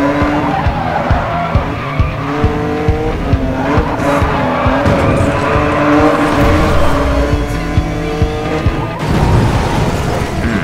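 Racing cars in Need for Speed Most Wanted, including a Lamborghini Diablo SV, screech their tires and skid loudly through repeated crashes. Engines whine steadily underneath, with no voices.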